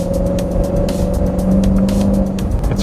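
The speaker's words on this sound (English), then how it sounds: "This car just hooks right off the get-go in first gear." A Chevrolet Corvette C7 accelerates hard in track mode from inside the cabin, a loud steady engine drone with rising tonal whine and tyre and road rumble underneath.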